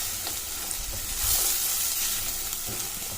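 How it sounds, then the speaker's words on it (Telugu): Gravy for mirchi ka salan sizzles steadily in hot oil in a pan while being stirred, a bright continuous crackle with soft scraping strokes and no talk. "ఇలాంతా గ్రేవీ వేసి ఒకసారి కలుపుకొని పెట్టుకోవాలి"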